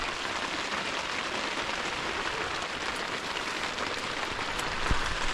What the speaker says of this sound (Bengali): যে বৃষ্টি পড়তেছে